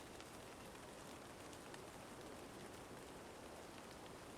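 Steady rain in a Sherlock Holmes mystery video game, a dense even hiss of drops pattering on surfaces, faint and unbroken throughout, with no voices.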